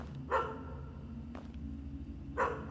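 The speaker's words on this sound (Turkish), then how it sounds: "Köpek ne alaka lan?" A dog barking inside a cemetery-security video game, three separate sharp barks spaced apart over a low steady hum.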